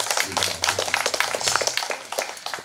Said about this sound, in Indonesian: Saya rasa tepuk tangan untuk kita semua.